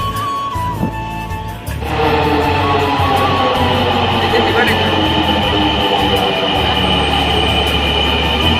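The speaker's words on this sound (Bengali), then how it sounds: "ট্রেনের জন্য অপেক্ষা করতে করতে দেখি কাছাকাছি ট্রেনটা এসে পড়ছে।" A metro train rumbles into Diabari station, the faint approach quickly swelling into a loud, sustained roar of wheels on rails, with voices nearby.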